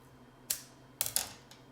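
Scissors snip through a folded pipe cleaner in a quiet room, giving a few short sharp close clicks, a single cut followed by a quick double snip and one fainter last click.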